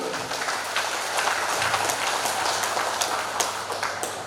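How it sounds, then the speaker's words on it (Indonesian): A crowd at the Pesta Bolon gathering of Parsibona Jabodetabek claps their hands, giving a dense, continuous patter of applause at moderate loudness with a few sharper claps standing out. "tepuk tangan untuk Tuhan"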